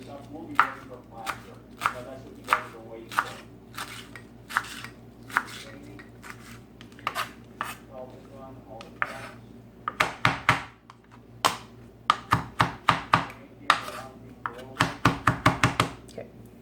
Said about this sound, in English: And we're just gonna start chopping.